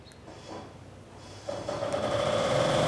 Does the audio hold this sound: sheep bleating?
no